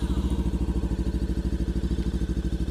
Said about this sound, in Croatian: vidite da je motor u leru